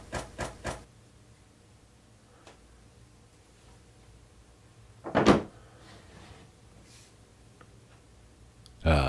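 The case of a vintage Belzer socket wrench set being opened: a quick triple of clicks as the latches release, a louder clatter of the lid a few seconds later and another knock at the end, close and otherwise quiet.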